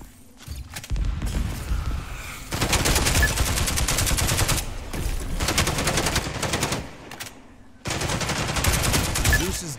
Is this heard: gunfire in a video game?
yes